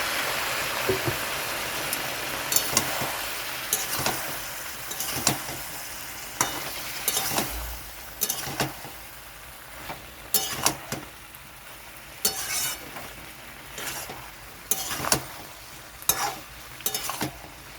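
Raw banana and prawn curry cooking down in a pan with a splash of added water, a continuous sizzle punctuated by repeated sharp scrapes and clinks of a spoon stirring against the pan.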